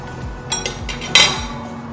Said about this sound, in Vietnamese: Sau khi chuẩn bị cho khoai tây vào lồng xong, Diệm sẽ đưa vào lò nướng.